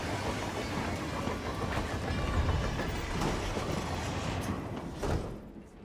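Inside a train carriage in the Romania level of Hitman 3, a continuous rolling rumble carries faint clickety-clack rail beats. It eases off near the end, with no voices.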